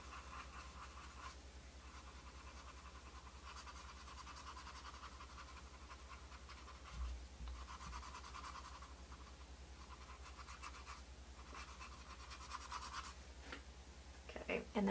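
A brush dry-rubbing Butterscotch acrylic paint in decorative tole painting makes soft, steady scratchy strokes that repeat in rhythmic bursts, faint and close, with occasional quiet handling noises.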